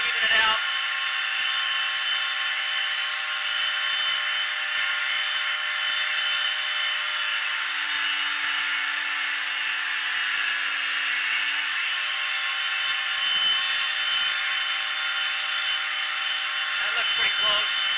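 A 2x72 belt knife grinder runs against a knife edge, producing a steady, loud abrasive whir with a high whine that holds unbroken from start to finish.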